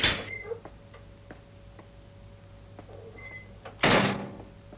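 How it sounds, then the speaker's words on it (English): A door is opened in an action-movie scene: faint ticks and clicks over a low hum, then a sudden loud, bright burst of movement near the end. "Open the door."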